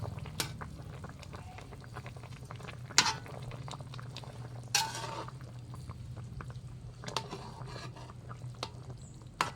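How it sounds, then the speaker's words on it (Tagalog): Water boils in a covered pan on a home stove, a steady low bubbling rumble with faint lid rattles and occasional clinks of kitchenware throughout. "kumulo na siya"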